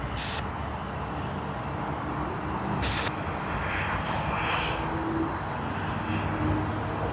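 Qantas airliner taking off from runway 16 right at Sydney Airport, a steady broadband engine roar at moderate distance with a few brief higher bursts and no talking.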